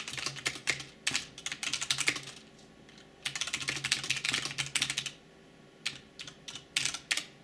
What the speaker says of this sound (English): Let's go with an old beat to death Cherry Red, just so you can hear that.